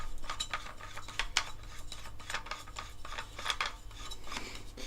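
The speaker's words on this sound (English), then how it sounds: "I'm going to tighten this down" A metal Osprey suppressor being screwed and tightened onto a rifle, heard as quiet, close, irregular clicking and scraping metal-on-metal sounds in short bursts, with no talk.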